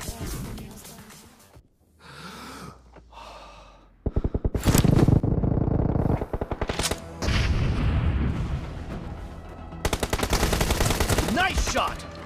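Rapid machine-gun fire in a BGMI team deathmatch at a warehouse rattles in loud, dense bursts after a quieter opening with breathy gasps, broken by short pauses and then resuming.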